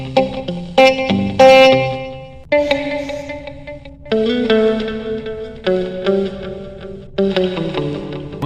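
Electric guitar notes and chords played through a 99 DSP reverb pedal set to a heavy echo effect, each phrase trailing off in long repeating echoes and wash; loud, continuous playing with no voices.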